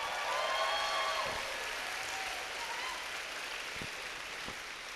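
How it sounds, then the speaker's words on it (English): Steady applause from an audience at a 2023 graduation ceremony, a dense even patter of many hands that holds at moderate level, slightly distant, with no voices over it. "If we can give them a round of applause."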